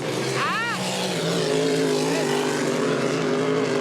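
A voice imitates a regatta of racing boat engines with a droning buzz and a brief rising-falling whine, over steady background noise.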